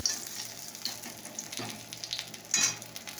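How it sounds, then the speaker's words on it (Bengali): A tomato frying in hot oil, with a soft continuous sizzle and a few brief crackles and stirring sounds, fairly faint and without speech. "এটাকে তেলে ভেজে নিচ্ছি, যেমন এটাকে এখানে একটা টমেটো ভেজে নিচ্ছি"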